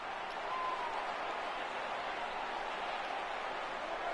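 Broad, steady roar of a stadium crowd of over 39,000 on its feet in the MLB 14 The Show baseball video game, a Dodgers game, holding at an even level throughout.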